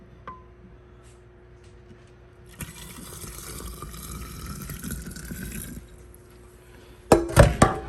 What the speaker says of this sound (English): I'm going to dump that rice in and pour this boiling water in on top of it